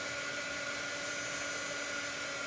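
A handheld heat tool blows a constant, steady whirring hiss up close while drying ink printed on a tea towel, unbroken throughout.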